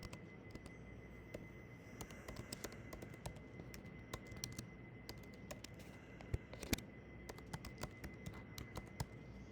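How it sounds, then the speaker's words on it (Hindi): Someone types an email address on a computer keyboard, a steady run of quick, fairly quiet key clicks for the whole stretch with a couple of slightly louder taps, and no talking. "चलो मैं अपना ईमेल एड्रेस टाइप कर देता हूँ"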